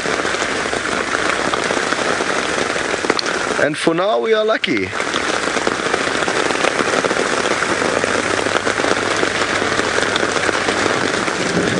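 Steady, loud rain patters and drips onto a plastic cover over an open safari vehicle, a dense continuous hiss throughout, with someone speaking briefly partway through.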